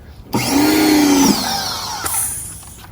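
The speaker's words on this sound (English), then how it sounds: "I'm going to turn the power washer on." A power washer starts up to rinse the wheels and wheel wells of a 2017 Jeep Grand Cherokee, a loud, close, steady motor whine and spray hiss that kicks in abruptly and runs without talk.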